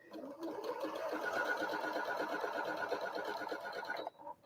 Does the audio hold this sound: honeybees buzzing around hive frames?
no